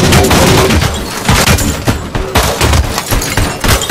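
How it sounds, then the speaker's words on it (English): Dense, loud gunfire from the action game Robocop: Rogue City, with rapid overlapping shots and booming impacts that crackle continuously through the whole stretch. "Shoot some, Ed."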